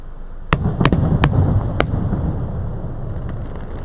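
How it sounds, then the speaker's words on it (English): Magic Kingdom test fireworks bursting in four sharp, loud booms close together in the first two seconds, followed by a lingering crackling rumble. "We are getting a lot more fireworks this time than last time."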